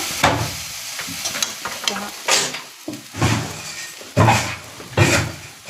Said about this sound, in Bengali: ঘি দিয়ে সামাই ভেজে দাও।